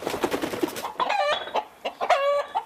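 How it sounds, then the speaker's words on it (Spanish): A fighting rooster of a specific fighting breed clucks and squawks in a rapid series of sharp, nasal calls, close and loud, with scratchy rustling between bursts. "Para que un gallo pueda pelear necesita ser de una raza específica como esta."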